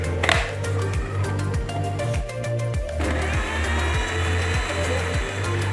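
Electric mixer whirring as it blends mango milkshake with milk: a steady, buzzing motor drone with regular rhythmic pulses, close and moderately loud, and a brief change in tone partway through.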